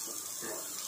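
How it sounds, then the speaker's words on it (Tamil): Water from a rinsed mixie jar poured into simmering potato gravy in a home kitchen, a steady close splashing pour that runs without pause for under a second. "இந்த மிக்ஸி ஜாரை வந்து கொஞ்சம் அலம்பி அதில் இருக்கிற தண்ணியை இதில் விட்டுப்பேன்"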